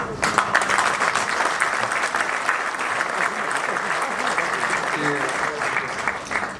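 Audience at a public gathering in Agadir applauding Marwan Adlaati as he stands, loud dense clapping sustained without a break across the whole stretch.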